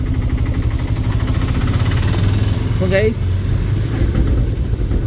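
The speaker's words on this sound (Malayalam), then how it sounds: "ഫ്രണ്ടിലെ വണ്ടി പോയി കേട്ടോ" Idling vehicle engine rumbling close by in traffic while people talk over it, a steady low hum with a brief horn-like tone partway through.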